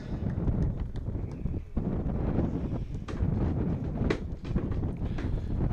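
A dun mare moves across soft arena ground during a competition, hooves thudding irregularly, with gusts of wind buffeting the microphone.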